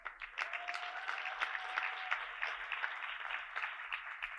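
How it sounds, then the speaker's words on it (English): Audience at an AFT union gathering clapping, a broad patter of many hands at moderate distance, steady for a few seconds with scattered sharper claps and no voices. "yeah, we can clap for that"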